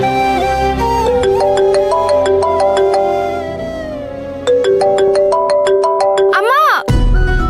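A melodic mobile phone ringtone plays loudly for an incoming call in a Kannada TV serial scene, repeating its bright electronic tune twice before cutting off with a short swooping tone.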